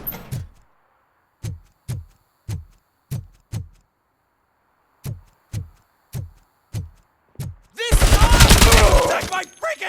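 Gunfire in the video game RoboCop Rogue City, a series of about a dozen sharp, evenly spaced single shots in two bursts, followed by a loud, bright clattering crash of debris and metal.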